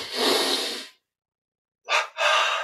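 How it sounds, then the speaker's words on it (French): Two sharp, forceful inhalations through the nose during a yoga breathing exercise, a long breath followed after a pause by a quick double intake, close and alone. "On tend les bras devant, plie un petit peu les jambes. Double inspire."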